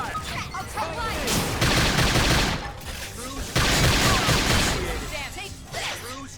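Rapid video game gunfire bursts in sustained volleys, loud and dense, with whooshing effects mixed in and a voice talking over parts of it.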